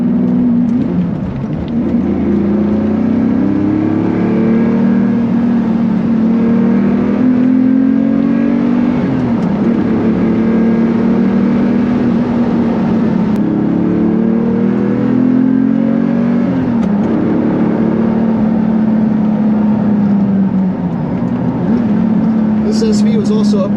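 A 1998 Lamborghini Diablo SV's naturally aspirated engine pulls hard uphill through mountain turns on Angeles Crest, loud and close. It rises and falls in repeated revving surges as it shifts and accelerates, with a driver talking over the roar.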